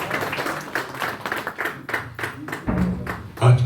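Audience at a mushaira poetry event claps in a series of quick, fairly close bursts, a thin, uneven round of applause followed by a low hum and a brief thump at the end.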